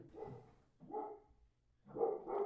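A dog barks in three short bursts, moderately close and fairly loud, with brief pauses between them and no talk over it.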